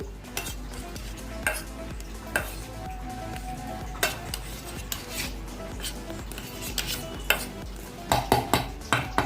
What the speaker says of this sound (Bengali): তাহলে দেখো আমি এবার আলুটাকে ম্যাশ করে নিচ্ছি।